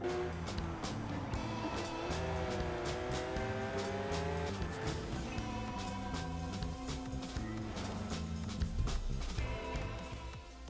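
A Porsche race car driving in a video game, its engine revving up and down through gear changes over a steady background, with tire squeal and skidding toward the end, no talking.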